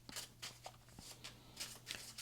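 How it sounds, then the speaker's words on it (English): A deck of playing cards shuffled quickly by hand, with repeated riffling bursts in a steady rhythm, close and fairly quiet over a low background hum. "I'm just going to go ahead and quickly shuffle these cards here"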